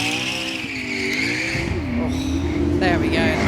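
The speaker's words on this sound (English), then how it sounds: "This one heading up the hill is the Hispano-Suiza Carmen Sagrera" A Hispano-Suiza Carmen Sagrera electric car climbs the Goodwood hill with a rising, whining electric drive note and a faint tyre squeal as it passes. A commentator talks over it.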